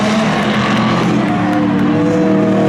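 Race cars at a spectator drag race on a Memorial Day thrill show, a loud continuous engine roar close by with a slight rising pitch, no voices.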